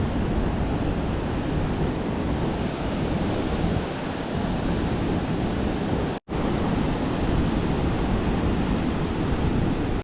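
Ocean surf breaks on a flat beach with no gutters or structure, a loud, continuous roar of waves with wind buffeting the microphone, broken by one brief cut-out.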